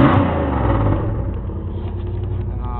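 A loud 1995 Dodge Ram 1500 plow truck engine revs nearby, with a roaring, rumbling surge in the first second that settles into a lower, steady idle with no talk.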